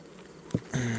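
Honey bees buzz in an open hive, a short close drone rising near the end after a brief tap, with a faint hum beneath.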